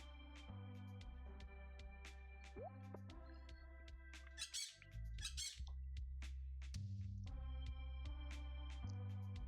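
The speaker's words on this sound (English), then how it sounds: "Those are some pretty birds." Game birds squawking and squeaking in a Stardew Valley scene, a cluster of shrill cries in the middle over looping background music, close and fairly loud.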